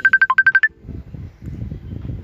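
A mobile phone ringtone for an incoming call plays a quick run of bright electronic beeps, loud and close, then stops and gives way to low muffled background noise.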